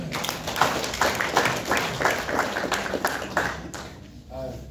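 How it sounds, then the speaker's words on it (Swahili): Applause from a church congregation at a memorial body viewing, a steady patter of clapping with some voices mixed in, tapering off at the end. "Naomba tuweze kupigia kanisa makofi mazuri."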